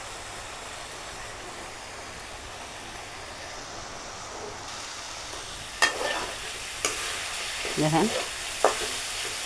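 Ingredients spread out in a pan fry over high heat with a continuous sizzle, joined toward the end by a few clanks and scrapes of a spatula while a voice speaks briefly.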